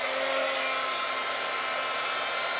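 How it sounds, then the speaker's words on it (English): Heat gun blowing hot air to dry paper flowers, a steady loud broadband whoosh with a faint motor whine, continuous and close with no speech. "And then what you do is you're going to take your heat gun."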